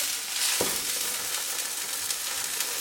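A chicken paratha cooks on a hot pan with a bright, steady sizzle and one brief scrape near the start, close and fairly loud.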